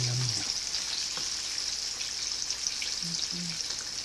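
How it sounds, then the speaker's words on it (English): Breaded pork chops fry in hot oil in a home kitchen, giving a steady bright crackling sizzle with scattered pops, close and continuous, with brief faint low sounds in the background. "Yeah, you can really see the sizzling."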